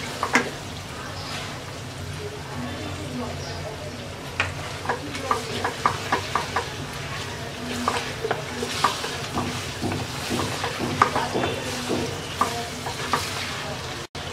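Ginger garlic paste frying in hot oil for a spicy olive pickle, with a steady sizzle broken by repeated scraping stir strokes of a spoon against the pan, close and fairly loud.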